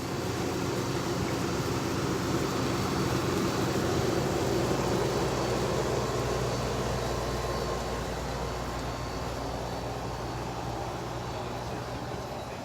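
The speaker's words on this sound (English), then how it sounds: "It's the air conditioner from the concession stand behind me that you're hearing." A steady, broadband hum from a concession stand air conditioner near a beach pier, loud and unchanging throughout with no breaks and no voices.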